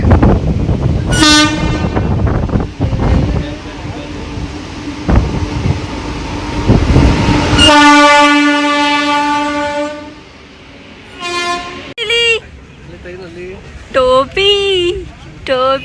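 A train passes through Malur railway station, rumbling loud and close with clattering cars and long blasts of its horn, while people talk and call out around it.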